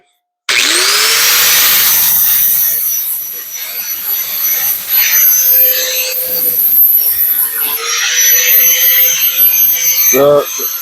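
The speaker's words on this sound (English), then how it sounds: "Now, grind that up" An angle grinder spins up and grinds galvanized metal, a loud steady high whine with rasping scrape that shifts as the disc bites into the steel, continuing almost throughout.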